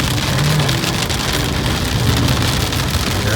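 Steady, heavy rain drums on a car during a mountain road trip to Shimla, a dense continuous patter close by with a low rumble underneath and no voices.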